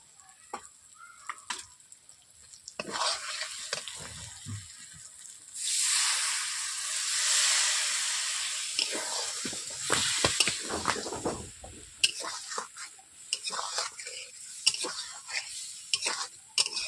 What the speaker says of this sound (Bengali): হালকা করে জল দেওয়ার পর এইভাবে আমি অল্প করে নেড়ে নিচ্ছি